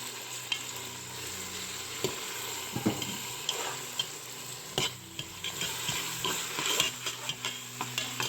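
Chilli and mint leaves sauté in hot oil with onions for egg biryani: a constant close sizzle with a spatula scraping and tapping the pan in repeated strokes throughout.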